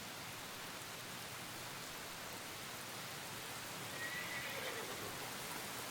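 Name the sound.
rain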